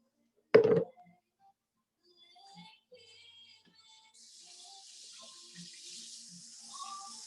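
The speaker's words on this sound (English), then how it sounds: "I'm gonna rinse my hands" Hands rinsed under a running kitchen tap during a cheesecake cooking class, a steady soft stream of water that sets in partway through after a sharp knock near the start, with faint background sounds.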